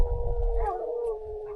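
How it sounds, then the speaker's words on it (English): Dogs trailing something outdoors, a single sustained howl rising and wavering, fairly close and clear over a low rumble. "dogs are trailing something."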